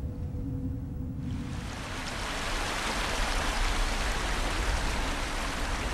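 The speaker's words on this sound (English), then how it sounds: "It has already begun to rain in Konkyu." Steady rain pours down in Konkyu, a dense, even hiss that swells in strength after the first second and keeps going, close and continuous, with no voices.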